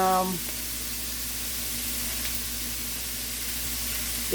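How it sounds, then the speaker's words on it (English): Garlic, onions, ginger, celery and carrots sauté together in a pan, a continuous steady sizzle and hiss, after a brief voice at the very start. "So right now I'm sauteing all of that there together."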